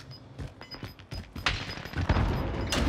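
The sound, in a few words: sniper gunfire in a video game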